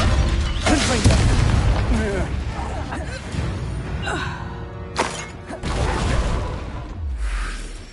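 A Confringo blasting curse in Hogwarts Legacy bursts with loud booming blasts and whooshes amid ongoing spell combat, with voices talking over the fray.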